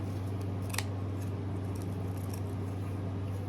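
Scissors snip through ribbon in a single quick, crisp cut over a constant low electrical hum, close and fairly quiet with no talking.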